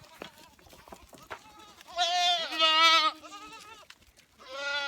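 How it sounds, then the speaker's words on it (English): Goats bleat loudly in overlapping, wavering cries, with a voice calling out between them and more bleats following. "Come on, goats."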